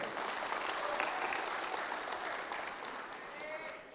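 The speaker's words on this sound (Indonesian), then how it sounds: "Tepuk tangan tuh untuk Pak Erick Thohir." A large crowd at a political party's 25th anniversary celebration in Indonesia breaks into sustained applause, a dense, loud roar of many hands clapping with crowd voices blended in, easing slightly toward the end.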